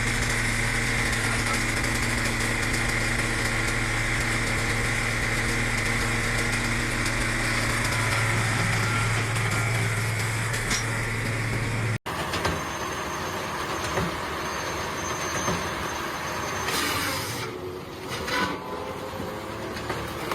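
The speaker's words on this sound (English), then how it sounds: "The Multitech 2040 XP2 wood processor, one of the most advanced firewood machines available, is in full operation at the timber yard" A Multitech 2040 XP2 firewood processor in full operation at a timber yard, a loud continuous engine drone with hydraulic whine, then an abrupt cut to a rougher, noisier stretch of machine clatter and hiss.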